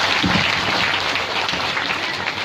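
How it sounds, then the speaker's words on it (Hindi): An audience at a Shrimad Devi Bhagwat Katha religious gathering breaks into applause to welcome a guest, steady dense clapping that fills the moment with no speech over it. "तालियों से स्वागत करेंगे।"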